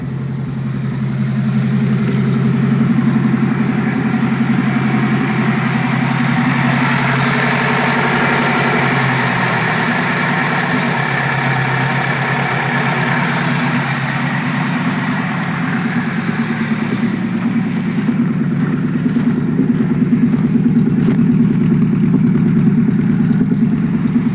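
A Chevette engine running on motorcycle carburetors idles steadily after a cold start, a loud, continuous, slightly uneven drone with no voices over it.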